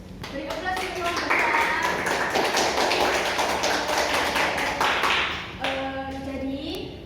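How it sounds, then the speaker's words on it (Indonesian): Classroom applause for a student group during a microteaching lesson, a sustained round of many hands clapping that swells and then fades after about five seconds, with speech around it. "Beri aplaus untuk kelompok"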